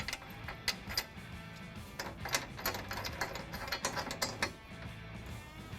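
A ratchet socket wrench tightens bolts on a trailer hitch being fitted to a 2017 Toyota Tacoma, giving a rapid, close, continuous run of clicking pawl ticks in short bursts with no talking.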